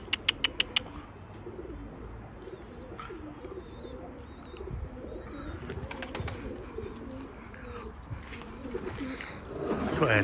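Pet pigeons coo softly in low rolling phrases throughout, with a few sharp clicks at the start and faint chirps, in a quiet outdoor setting.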